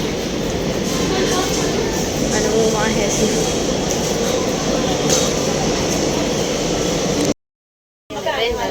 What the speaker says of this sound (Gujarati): આ ઊભી ટ્રેન જો ગાડી આવી ગઈ છે